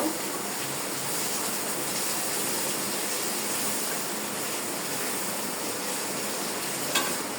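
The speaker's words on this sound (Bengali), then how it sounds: "পেঁয়াজটাকে আমি ভালো করে ভেজে নিব" Onions fry in a pan during home cooking, giving a steady, even sizzling hiss that runs unbroken at moderate level, with one brief sharper crackle near the end.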